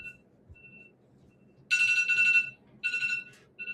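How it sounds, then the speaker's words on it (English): Phone alarm ringing in bursts, a bright electronic tone pulsing on and off in loud repeated segments after a quiet start, close to the listener and with no talking. "there's a alarm"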